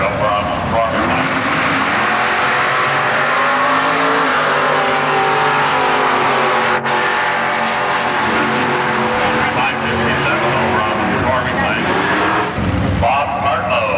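A 1927 Ford Roadster and another car line up for a bracket drag race at Milan Dragway, engines roaring loud and close with sustained revving and shifting pitch, under a public-address announcer's voice.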